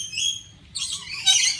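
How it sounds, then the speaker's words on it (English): A red parrot at a bird park in Bali gives harsh, loud squawks in two bursts, close by, with no talking. "I swear that red parrot's going for us"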